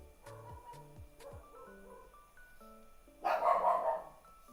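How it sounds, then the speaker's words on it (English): Several short dog barks close by, a quick cluster followed by scattered yips, with a louder burst of noise near the end. "That's why they're barking so much."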